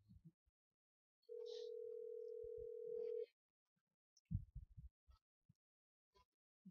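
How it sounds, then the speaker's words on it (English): A single steady electronic ringing tone sounds on a telephone call during a radio broadcast, holding for about two seconds before stopping, surrounded by faint low thumps and near silence. "It's ringing."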